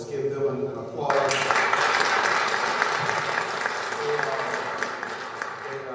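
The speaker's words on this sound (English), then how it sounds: "Let's give them an applause." Audience applause for a police group at a city government Honorary Mayor for a Day celebration, a sudden, steady burst of many hands clapping that fills the room after a speaker's voice and carries on strongly to the end.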